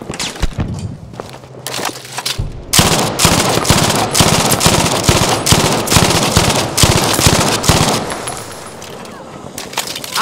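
MG42 machine gun firing in Battlefield 5, rapid sustained bursts of loud, close automatic fire with brief pauses between volleys, and in-game voices calling out in German.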